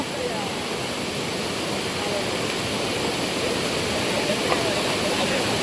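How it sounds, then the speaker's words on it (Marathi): Steady broadband rushing of water poured into a pot of chicken cooking outdoors by a stream, continuous and fairly loud, filling the whole stretch without clear breaks. "तर पाणी टाकूया थोडस"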